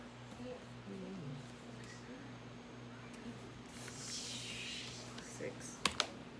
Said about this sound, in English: I gotta do this with the keyboard.